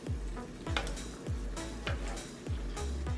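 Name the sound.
New York strip steak sizzling in a butter bath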